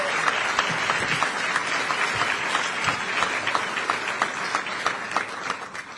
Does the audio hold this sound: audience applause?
yes